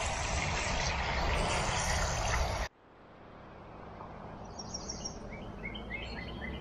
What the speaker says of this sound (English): The sound of birds after the rain.